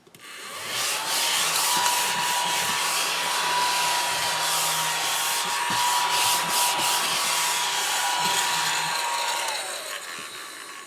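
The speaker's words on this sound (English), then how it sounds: "another thing that's been bought, desktop vacuum" A small £7.50 desktop vacuum cleaner runs steadily for about ten seconds, a loud continuous whining hiss with a high motor tone that starts abruptly and winds down at the end.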